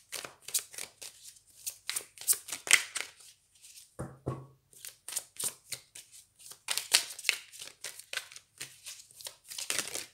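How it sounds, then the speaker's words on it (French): Thick tarot cards are shuffled up close in a rapid, continuous rustling riffle with a brief pause partway through, with no talking. "Elles sont très épaisses, ces cartes, pas faciles parfois à mélanger."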